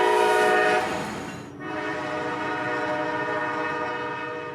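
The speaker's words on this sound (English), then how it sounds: "I catch the pair of engines rolling north" A CSX train led by a pair of 4-axle locomotives rolls north on the Brooksville Subdivision in Florida. A loud, sustained horn sounds first, then gives way to a continuous close rumble as the train passes.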